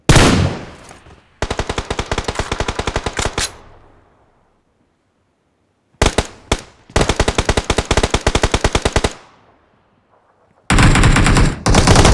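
Automatic gunfire from the mobile shooter game PUBG Mobile rings out in loud, rapid bursts of sharp shots, separated by gaps of silence with fading echoes, and a final burst cuts in at the end.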